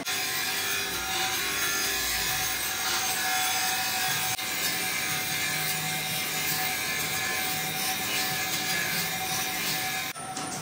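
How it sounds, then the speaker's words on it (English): Wire brushing the surface of a metal motorcycle exhaust link pipe before welding, a continuous close rasping scrub lasting about ten seconds, with no speech. "We always prefer to brush the surface."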